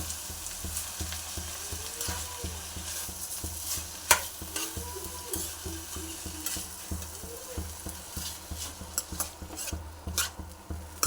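Banana stem stir-fry with salt is stirred in a pan: a continuous close sizzle carries rapid, repeated scraping and clattering strokes of a spoon against the pan, with occasional sharper knocks.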